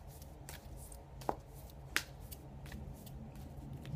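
Tarot cards being shuffled by hand, soft riffling with a couple of sharp snaps standing out, quiet and close with no talking.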